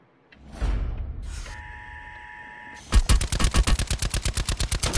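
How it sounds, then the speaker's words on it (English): Gunfire in the Call of Duty Blackout video game: after a whoosh and a mechanical whir, a rapid automatic weapon fires a loud, steady burst of evenly spaced shots. "Where did you just shoot me from"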